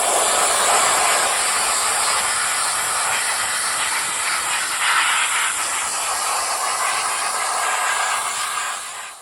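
An electric air duster blows dust off surfaces with a loud, continuous, airy whoosh that holds steady for about nine seconds before tailing off, close and alone.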